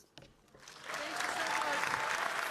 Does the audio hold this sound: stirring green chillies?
no